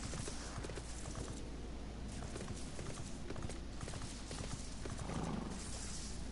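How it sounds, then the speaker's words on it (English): Hooves clip-clop steadily from a horse being ridden in Final Fantasy XIV, a continuous, faint rhythmic trot over a low ambient bed with no talking. "Oh, I just had to get off my horse."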